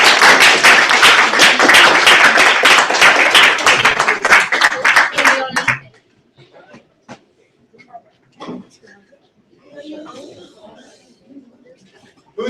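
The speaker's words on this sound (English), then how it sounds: "I think we should give her a little round of applause." A classroom gives a student a short round of applause, dense clapping for about six seconds that stops abruptly, followed by quiet room noise with scattered taps and soft voices.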